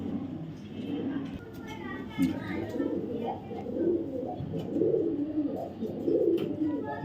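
A pair of racer pigeons coos in low, throaty rolling bursts that repeat steadily at close range, with a faint murmur of voices in the background.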